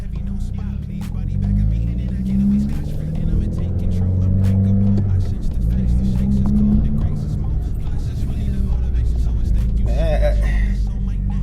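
A 2020 Subaru WRX fitted with a Group N transmission mount and Whiteline positive shift kit pulls gently out of a driveway in first gear, its engine droning low and steady from inside the car, with faint clicks near the end.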